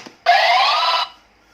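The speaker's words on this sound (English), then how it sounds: "Next player buzzers in." A harsh, steady electronic quiz buzzer sounds once for about a second, loud and close, as a player buzzes in, then cuts off abruptly.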